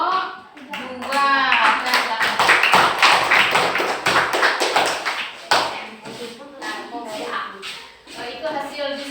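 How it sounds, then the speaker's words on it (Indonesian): Classroom applause for a student group, loud dense clapping from many children close by for several seconds before it fades. Voices can be heard near the end. "cocok kita kasih tepuk tangan untuk kelompok 2"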